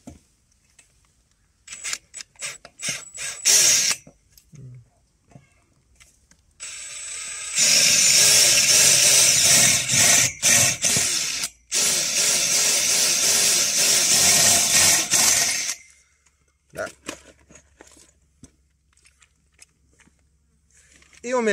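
A power drill bores into a wooden rafter, a loud sustained whirring grind lasting several seconds, bracketed by quieter speech and small handling knocks before and after.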